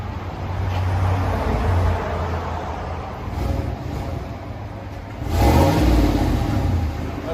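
A 2019 Chevy Silverado Trail Boss with a 5.3L V8 and stock exhaust revs with a low, muted rumble that swells and eases, then climbs to a stronger rev near the end, fairly quiet and steady with no talking.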